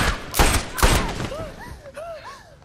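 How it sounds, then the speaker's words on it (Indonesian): Two loud, sharp gunshots in quick succession from the horror film Quarantine as a police officer shoots an old woman, followed by softer warbling, wavering tones. "nenek itu ditembak hingga ambruk oleh pak polisi"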